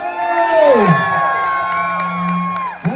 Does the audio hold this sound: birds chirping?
no